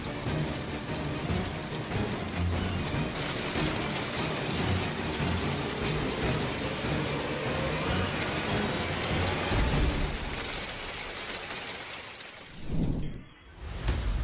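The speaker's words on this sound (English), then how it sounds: "The Houston area was hit by severe hail during a thunderstorm" Hail hammers parked cars during a severe thunderstorm in the Houston area, a dense, steady roar of impacts lasting throughout before cutting off abruptly near the end.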